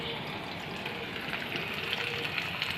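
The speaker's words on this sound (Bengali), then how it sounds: "পেঁয়াজগুলো লাল লাল হয়ে ভাজা হবে" Onions fry in a pan with a soft, steady sizzle, faint and continuous, with light crackles and small pops throughout and no talk.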